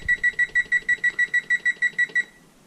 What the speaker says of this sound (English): We'll go ahead and start a timer here.